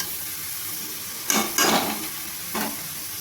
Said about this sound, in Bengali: লাউটাকে আমি মশলার সঙ্গে ভালোভাবে নাড়িয়ে নিয়েছি।